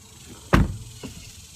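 A BMW i8 door slams shut with one loud, close thud, then a fainter click or latch sound about half a second later. Nothing else is heard around it.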